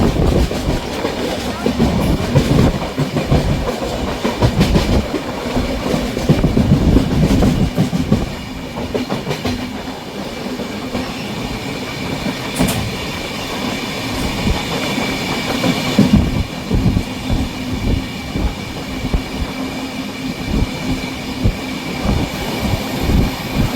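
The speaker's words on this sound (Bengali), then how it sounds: "আমাদের ট্রেন ডানকুনি থেকে আপ টু খানা জংশন অবধি এই রুটটা পুরো 130-এ টানবে" Shantiniketan Express from Howrah toward Bolpur running at high speed near its 130 km/h limit. A steady, loud rumble of wheels with rhythmic clickety-clack over rail joints carries throughout, with some wheel squeal and faint voices in the background.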